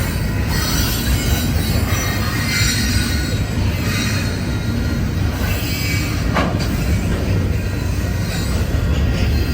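A freight train with stack cars rolls past close by, loud and continuous, its wheels squealing in a high, steady screech over a dense rumble of rail noise.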